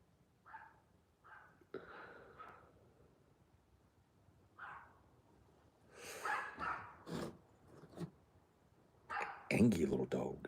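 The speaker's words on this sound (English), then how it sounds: "Angy little dog." A small dog gives a series of short, irregular yaps and huffs, some close and sharp, others softer, with breathy snorts between bursts against a quiet background.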